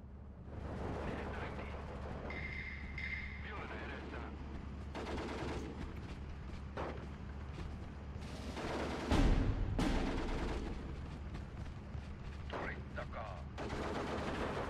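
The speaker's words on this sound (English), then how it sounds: "The submachine gun's in range, makes it easy." Submachine gun fire rattles through a World War II strategy game battle in Steel Division 2 on the Karelia front, steady dense gunfire with a loud burst of shots near the middle, continuing under a low rumbling battlefield bed.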